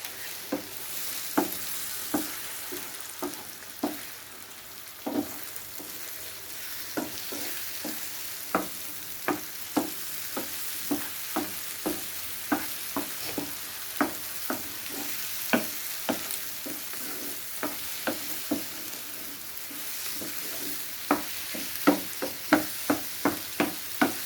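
An egg and onion curry of ten eggs is stirred in a frying pan, a continuous hissing sizzle broken by steady rhythmic knocks of the spoon against the pan, close and without talk.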